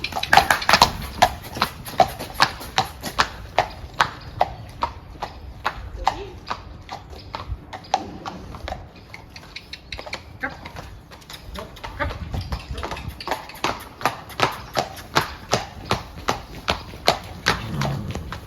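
Hooves of carriage horses clip-clop steadily on a path in Dyrehaven park near Copenhagen, a close, regular beat that quickens toward the end, with faint voices in the background.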